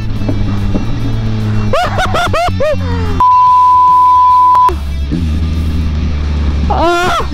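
Yamaha XSR 700 or XSR 900 motorcycle accelerating in second gear, engine revving up in rising sweeps, with a steady tone and a brief beep in the middle.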